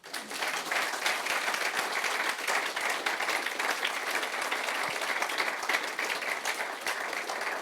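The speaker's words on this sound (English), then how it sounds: "I think a round of applause is due." An audience at a National Army Museum talk breaks into sustained applause, a dense, even wash of many hands clapping that holds steady and fairly loud throughout with no pauses.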